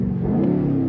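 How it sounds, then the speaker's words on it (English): A 2020 BMW X6 M Competition SUV's V8 engine in its most aggressive M2 mode, heard as a steady, close, loud low-pitched rumble that swells slightly as it revs, with no talking over it. "right when it starts up, you can hear that lovely V8"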